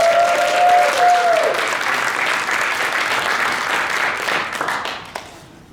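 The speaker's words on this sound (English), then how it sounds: "thunderous District 13 round of applause." Steady applause from a large audience at a Toastmasters leadership conference fills the room, a brief tone fades at the start, and the clapping gradually thins out toward the end.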